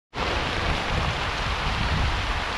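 Heavy rain comes down over Konkan paddy fields, starting abruptly and then holding as a dense, even hiss of downpour close by with no voices.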